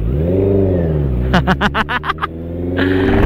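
A Honda CB650R motorcycle engine, fitted with new grippy tyres, rumbles at idle, then snaps through a quick burst of sharp throttle blips before settling back to a steady hum, close and loud.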